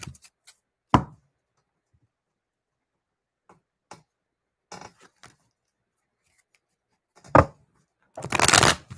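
A deck of reading cards being shuffled, sparse single snaps and soft taps in near silence, ending in a brief rapid riffle.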